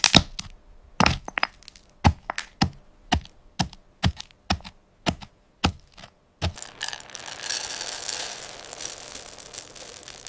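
Roasted cacao bean shells cracking apart by hand, a series of about a dozen sharp, dry snaps at a steady pace, close and distinct, followed by a softer rustling hiss.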